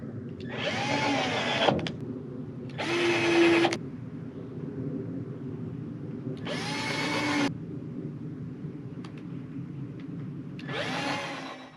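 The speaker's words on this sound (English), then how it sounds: "drill my pilot holes" A power drill whirs in four separate bursts of about a second each, drilling pilot holes in a 1994 Ford F-150 truck bed, close by, with a low steady hum between them.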